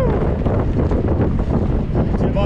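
Strong wind buffets the microphone in a loud, continuous roar with no breaks, while cycling past Theewaterskloof Dam on a gravel route.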